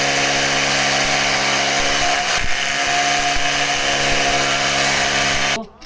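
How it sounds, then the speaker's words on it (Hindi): A power drill fitted with a number 10 bit bores into a stand to mount an audio device, a loud, steady motor whine running without pause for nearly six seconds before cutting off abruptly. "अब इसको स्टैंड में ड्रिल करके मैं आपको लगाता हूँ और बताता हूँ।"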